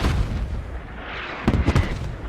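Mortar rounds land in a Squad match as a low rolling rumble, then a cluster of sharp, close explosive cracks in quick succession near the middle, fading back into the distant boom of battle.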